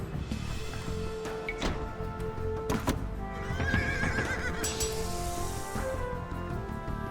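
A horse whinnies loudly for a knight's heavy cavalry unit in a strategy video game, with a rising, wavering neigh near the middle over a busy bed of game sounds and faint clip-clop.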